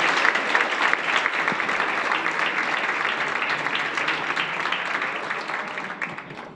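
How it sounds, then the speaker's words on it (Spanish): Audience applause welcoming a speaker at a technology and entrepreneurship talk, a dense burst of clapping that starts strong and gradually thins out, filling the room with no voices over it. "le damos un fuerte aplauso a Gastón"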